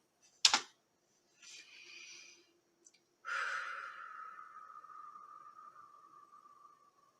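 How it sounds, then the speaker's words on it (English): Slow, deliberate breaths as a calming exercise: a sharp click, then a soft drawn-out inhale and a longer, steady exhale that fades gradually, with no talking. "Let's try breathing slowly."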